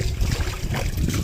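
Water splashes and trickles steadily as stairs are washed down, a close, continuous wet rush with no voices over it.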